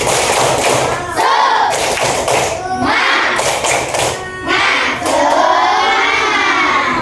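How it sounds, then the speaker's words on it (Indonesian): A fifth-grade primary school class performs a rhythmic spirit clap, loud bursts of many hands thumping in patterned groups while children chant and shout along and a teacher's voice cuts in between. "kita tepuk semangat dulu yuk, biar semangat, yuk"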